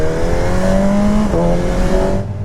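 A BMW M1000R naked motorcycle engine revs hard and close on a mountain pass, rising in pitch, dropping briefly at a gear change, then climbing again before cutting off.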